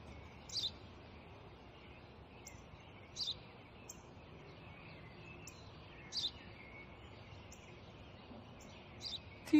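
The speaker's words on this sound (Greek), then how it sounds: "Ένα σπουργίτη." House sparrow chirping outdoors, heard as short, bright, faint chirps spaced a few seconds apart over steady background hiss, with no voices.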